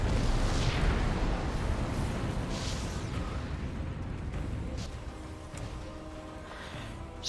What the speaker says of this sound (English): Another nuke on the way.